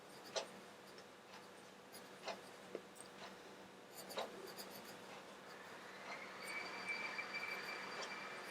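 A Stabilo pencil draws around the inside of holes on paper, making soft, close scratching strokes that come in short intermittent bursts with brief pauses between them.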